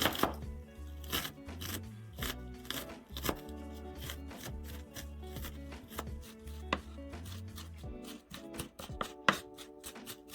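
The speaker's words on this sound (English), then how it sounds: "Chop it as fine as you can" Fine chopping of fresh green seasoning such as thyme with a knife on a board, a fast irregular stream of close knocks and taps with no speech.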